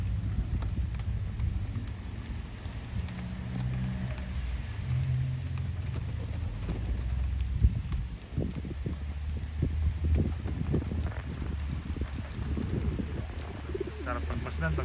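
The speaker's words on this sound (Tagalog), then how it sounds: "Medyo mahina na yung ulan." Light rain falling outdoors around a pigeon loft, a soft steady patter under low cooing pigeons and faint background voices.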